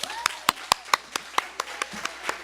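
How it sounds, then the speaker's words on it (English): Sparse, evenly spaced hand claps at a Women's Day gathering, roughly a dozen sharp claps over a couple of seconds, sounding like only a few people applauding in a quiet room. "Let's give her a round of applause."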